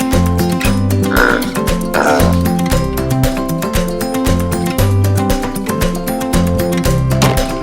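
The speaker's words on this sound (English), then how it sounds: "Pig." A pig oinks a few times in a children's animal-names learning segment with farm animal toys, the grunts sitting over loud, bouncy background music.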